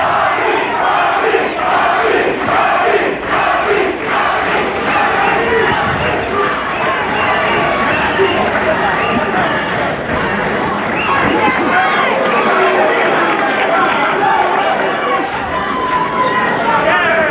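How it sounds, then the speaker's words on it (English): Dense, loud crowd roar at a boxing match, rhythmic chanting for the fighter Bobby Czyz rising from a packed arena and sustained throughout, with a commentator talking over it. "And a chant of Bobby."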